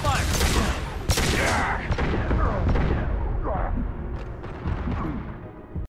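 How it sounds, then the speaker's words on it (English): Heavy gunfire in the video game Mass Effect 2, dense and continuous with booming blasts throughout, loud and close, with a voice speaking over the shooting. "Taking heavy fire."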